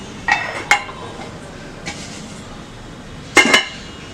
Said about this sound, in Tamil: இதுக்கு மூடி போட்டுடலாம்.